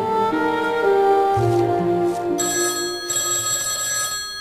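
A telephone rings in The Sims 2 with a bright, steady electronic bell tone, loud and continuous with no talk over it.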